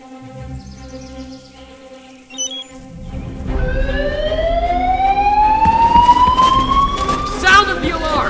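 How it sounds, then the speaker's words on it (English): A base alarm siren starts after a brief quiet stretch and then wails loud and rising for several seconds. Its tone climbs steadily over a rumbling background. "Sound of the alarm!"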